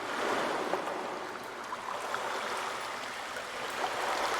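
Water sloshing and washing in the Call of Cthulhu video game as the player wanders into it, a steady broadband wash of moderate loudness throughout with no talking.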